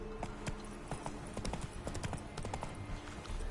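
A horse gallops in The Witcher 3, with rapid rhythmic hoofbeats thudding continuously, moderately close, over a low background of game ambience.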